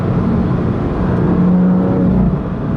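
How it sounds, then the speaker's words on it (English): A BMW M2 Competition with a manual gearbox holds a loud, steady engine drone heard from inside the car, with the pitch swelling slightly near the middle and no voices. "I hear the little burbles in the exhaust as well."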